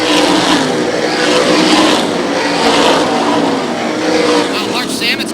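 Race cars roar back up to speed on a green-flag restart after a caution at a short-track oval race, a dense, loud engine wash sustained throughout with swelling revs as the pack passes.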